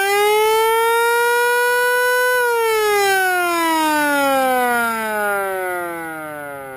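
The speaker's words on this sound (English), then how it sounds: "That's the main federal siren." A loud mechanical Federal siren on a Seagrave fire truck holds a steady high wail, then slowly winds down in pitch as it fades, no voices.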